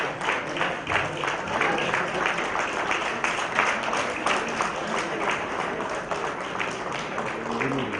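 Sustained applause from a large audience, dense steady clapping filling the whole stretch at an even, loud level.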